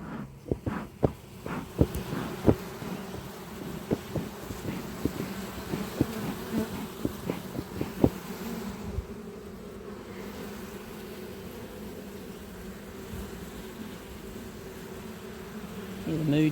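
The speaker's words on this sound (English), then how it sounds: "Plenty of bees in there doing their bee thing." A dense, constant hum of many honey bees buzzing close by in a hive during an autumn inspection with smoke, punctuated by a series of sharp knocks and taps early on.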